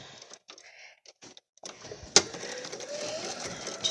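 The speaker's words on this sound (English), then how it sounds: "I'm going to top stitch the inside part, which is this shorter part" A sewing machine topstitches the inside of a fabric face mask, starting after brief pauses with a sharp click, then running as a steady, close whirring hum until the end.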